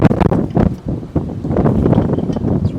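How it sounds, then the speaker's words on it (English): Gusty wind blowing outdoors during front wheel bearing work on a 2015-2019 GMC or Chevy 2500, buffeting the microphone in loud uneven bursts with rustling throughout. "It's really windy out here today."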